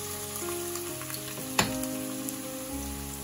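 Chopped onions fry in hot oil for a Bangladeshi beef bhuna, giving a steady close sizzle with a single sharp crackle partway through.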